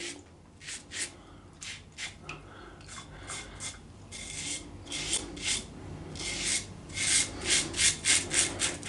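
A Razorock Babysmooth safety razor scraping across stubble in short, close, rhythmic strokes, with the rasping quickening and growing louder toward the end.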